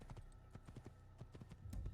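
Horse hooves clip-clopping in the video game Shadow of the Colossus, a faint quick irregular patter of hoofbeats with no voices over it.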